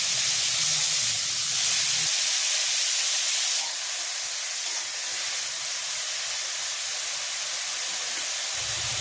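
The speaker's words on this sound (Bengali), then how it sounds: "এখন তেল গরম হয়ে গেছে, এখন দিয়ে দিচ্ছি আমি" Chopped beetroot, cabbage and beans drop into hot oil in a kadai and burst into a loud, steady hiss that gradually settles to a softer sizzle.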